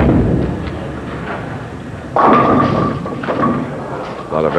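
A bowling ball crashes into the pins at a 1992 PBA Showboat Invitational bowling match, a sudden clattering strike heard under commentators' talk.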